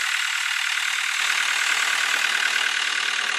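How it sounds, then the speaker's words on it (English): A 2008 Caterpillar 299C compact track loader idling, its engine giving a steady, unchanging drone throughout with no talking. "Engine runs great."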